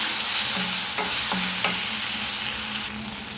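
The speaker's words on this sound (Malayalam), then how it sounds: "രണ്ട് ടേബിൾ സ്പൂണ് ടൊമാറ്റോ സോസ് ചേർത്ത് മിക്സ് ചെയ്തെടുക്കാം" Tomato sauce being stirred into a chicken sandwich filling in a pan, a loud continuous sizzle with a few sharp scrapes of the spoon against the pan.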